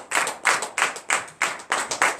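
A church congregation at morning prayer in Comè, Benin claps in unison, a brisk rhythmic pattern of about nine or ten sharp bursts of many hands, loud and close, with no talking.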